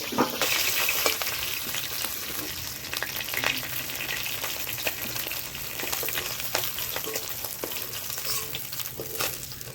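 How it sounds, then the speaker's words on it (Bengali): Ritha fish pieces fry in hot oil with a dense, constant sizzle and spatter, close and moderately loud, broken by occasional sharp clicks and scrapes of stirring across roughly ten seconds, with no talk. "মাছ ভাজা হয়ে গেল এখন আমি নামি নিচ্ছি"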